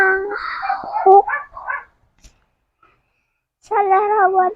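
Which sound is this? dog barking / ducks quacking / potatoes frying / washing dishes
dog barking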